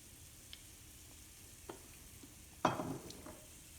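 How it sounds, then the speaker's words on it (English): Flitters fry in a few drops of oil, a faint, crackling sizzle with scattered small pops and one sharper burst of spattering near the end. "So that you don't miss the frying,"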